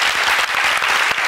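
Studio audience on a Tunisian TV show applauding, dense steady clapping from many hands, loud and close throughout.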